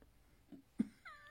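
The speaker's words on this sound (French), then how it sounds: "vilain chat, va-t'en." Cat meowing: a faint thump and a short sharp yelp are followed by a drawn-out wavering meow in a quiet space.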